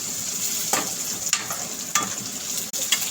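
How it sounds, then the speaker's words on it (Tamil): Small carrots frying in a pan are stirred continuously, a steady close sizzle broken by regular scraping strokes of the spoon roughly every half second. "இப்போ இதை கை விடாமல் நல்லா கிண்டிக்கலாம்"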